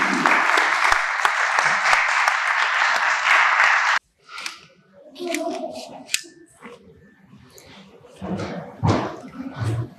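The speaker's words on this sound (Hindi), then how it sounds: "आप सबकी तालियों की गूंज में द वन एंड ओनली" Audience applause at the opening ceremony of a film premiere, a loud sustained clapping for about four seconds that stops abruptly, followed by scattered thumps, shuffling and faint murmuring from the crowd.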